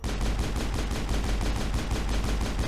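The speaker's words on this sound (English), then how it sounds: "I'm just gonna shoot it from here" Gunshots in the video game Mass Effect, a loud, sustained stream of evenly spaced rapid shots with no talking.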